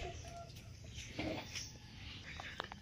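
Chickens clucking at a farm where pigs are kept, a few soft clucks scattered over steady low background noise, fairly faint and at middle distance.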